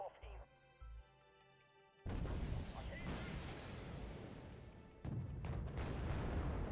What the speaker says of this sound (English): Alright, we can get this guy with the rockets.